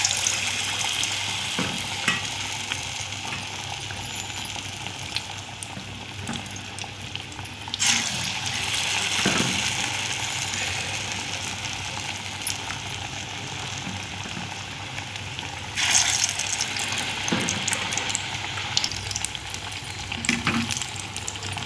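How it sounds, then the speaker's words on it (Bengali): Banana flower chops made with a gram-flour batter fry in hot oil, giving a steady, moderately loud crackling sizzle throughout with a few brief louder bursts of bubbling and stirring. "এই যে বন্ধুরা ভাজা হচ্ছে"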